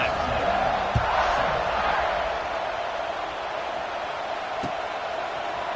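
A stadium crowd at a Texas A&M at Notre Dame college football game roars in a broad, steady wash, louder at first and then easing into a sustained background murmur.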